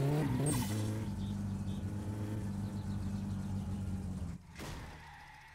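A car engine in the driving game My Summer Car holds a steady drone with a slipping clutch, a sharp squeal-like burst near the start and an abrupt cut before fading lower; no one speaks.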